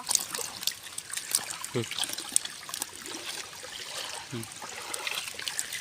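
Water trickles and splashes as freshly caught fish are washed outdoors, a soft continuous dribble with faint voices in the background.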